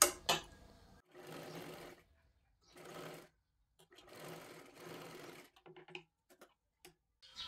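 A sewing machine runs a double line of stitching along a princess blouse seam in three short, close bursts separated by quiet pauses, with light ticks and handling clicks between them.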